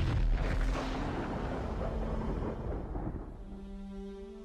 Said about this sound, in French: l'étoile ne peut plus le supporter et finit par exploser en ce qu'on appelle une nova ou